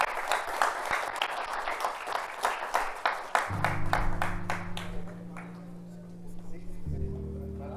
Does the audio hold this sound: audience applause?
yes